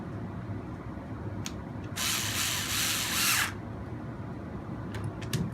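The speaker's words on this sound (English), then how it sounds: "Go ahead and tighten everything up on this side of the frame now." A power driver whirs in one continuous burst of about a second and a half, tightening screws on the frame of an RC crawler. Faint clicks come before and after it, with no one speaking.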